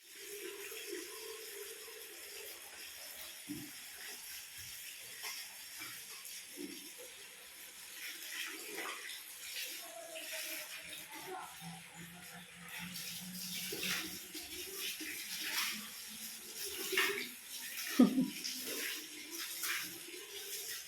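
Water runs and splashes unevenly into containers, with gurgling and occasional clinks, moderately close and continuous throughout.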